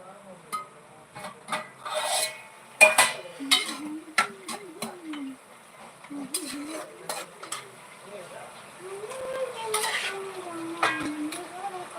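Gongura curry is mixed in a pan, giving scraping, rasping strokes of a spoon against the pan at an uneven pace, up close, while people talk over it.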